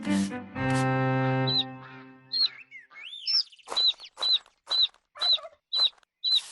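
A cartoon hen opens with a long, sustained cackling call. A series of short, sharp, evenly spaced clucks and chirps follows. The sounds are close and clear, with quiet gaps between them.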